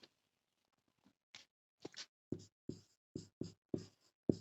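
A teacher writes a definition on a board in a quiet room, with a series of separate scratching strokes coming in short bursts at an uneven rhythm, close and clear with no talk over them.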